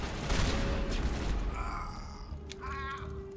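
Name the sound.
shotgun firing in video game Mass Effect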